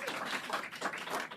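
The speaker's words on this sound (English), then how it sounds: "Wonderful applause" Audience applause at a press conference, a full burst of many hands clapping together, rising and falling slightly but continuous for the whole moment.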